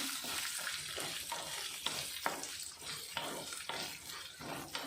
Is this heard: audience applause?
no